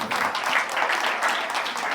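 Audience at Shri Balaji Vidya Mandir school in Raipur applauds the staff, a steady dense wash of many hands clapping throughout at moderate, even loudness.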